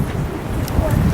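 Strong wind buffeting the microphone on a slippery, exposed hilltop at Mycenae in Greece, a steady rough roar through the whole moment.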